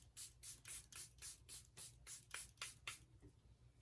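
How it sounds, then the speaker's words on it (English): A rapid series of about a dozen short, airy bursts of Charlotte Tilbury Airbrush Flawless Setting Spray on a face, close and evenly paced, with a low steady hum underneath. "So I'm going to use my Charlotte Tilbury Airbrush Flawless Setting Spray."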